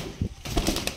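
Madrasi pigeons close by in a cage, with a couple of short soft coos and a brief flutter of wings in a one-second burst, no talking.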